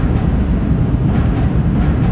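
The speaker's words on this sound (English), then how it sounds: "A train's got a driver!" A train rolls along in the Minecraft video game as a steady, loud low rumble with a continuous rolling drone and no breaks.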